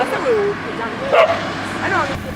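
A dog gives a few short whimpering yips and barks at a rural municipality, close and clear against quiet background noise.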